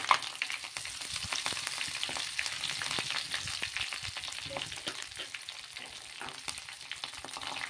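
Curry leaves and dried red chilies sputter and hiss in hot oil as a tempering for a dal with Malabar spinach. The sizzle is steady and close, with dense crackling and occasional sharp pops, and no voices.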